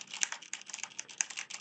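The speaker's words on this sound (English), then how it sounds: "let's try typing on the keyboard" Rapid, light clicking of fingers typing on a computer keyboard, close and fairly quiet, an uneven patter of keystrokes with no voices.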